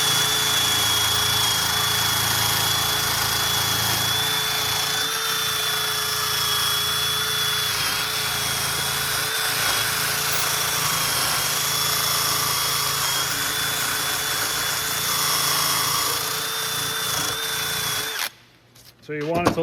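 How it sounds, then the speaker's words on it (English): A wire wheel on a power tool cleaning rust off a brake caliper bracket on a 2010-2016 Cadillac SRX, a loud steady whirring grind held for about eighteen seconds before it cuts off, with no talk. "Now I'm gonna go in the wire wheel and sort of really"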